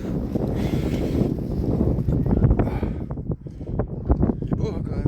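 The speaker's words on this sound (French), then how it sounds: "Il y a un vent de fou ici" Strong wind at Mont Saint-Michel buffets the microphone with a continuous low rumble while someone talks over it.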